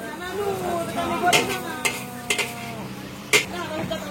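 Maggi goreng fries in a pan, with a steady sizzle under scraping stirs and several sharp metallic taps of a utensil against the pan.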